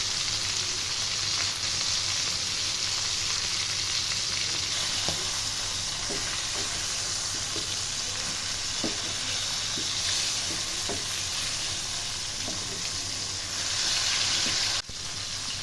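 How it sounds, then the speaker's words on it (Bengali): A beef steak fries in a pan with butter and oregano, giving a steady close sizzle and crackle throughout, with a few faint ticks of utensils and no talking. "মাংস নামানোর আগে আমি ১ টেবিল চামচ বাটার ও ১ চা চামচ অরিগানো দিয়ে দিচ্ছি।"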